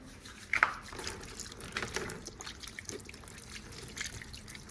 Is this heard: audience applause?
no